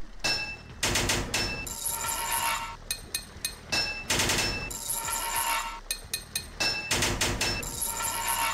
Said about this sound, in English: 4 hits of your hammer to fit a pipe.